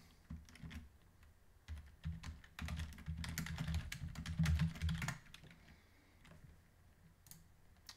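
Quiet typing on a computer keyboard: irregular runs of soft key clicks that cluster into a busier burst midway, then thin out to a few isolated taps.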